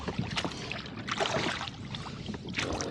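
A rowboat is rowed back to the dock on Clear Lake at Lakeside Park, with close oar splashes and water swishes coming in a loose rhythm of strokes.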